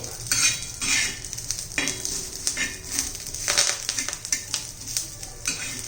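Curry leaves are stirred and roasted in a pan, with a spoon scraping and clinking against the metal in uneven bursts over a soft background sizzle, close and fairly quiet.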